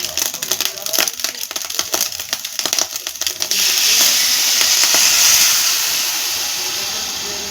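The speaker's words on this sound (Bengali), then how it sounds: "এর সঙ্গে আমি 2 বাটি জল দেব" Two bowls of water go into a pan of fried rice for Kanika Bhog: crackling sizzle first, then a sudden loud steady hiss of steam that slowly fades, close by.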